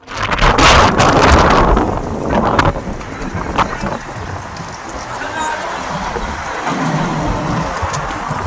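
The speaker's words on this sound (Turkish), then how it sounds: "İskenderun, bayramın son günü rüzgara teslim." Strong wind in İskenderun, Turkey buffets the microphone in a constant loud rush, with gusts rising and falling and faint voices underneath.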